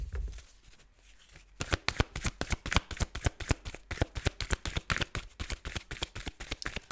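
A deck of tarot cards is shuffled close up in a fast, even riffle of crisp flicks, continuing steadily for several seconds after a brief quiet start, with no voices.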